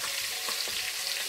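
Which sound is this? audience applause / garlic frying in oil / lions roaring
garlic frying in oil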